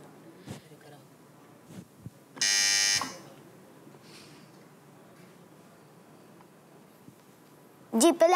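A quiz buzzer sounds once, a loud harsh buzz of about half a second on a children's Islamic quiz show, set amid quiet pauses, soft noises and a brief voice near the end.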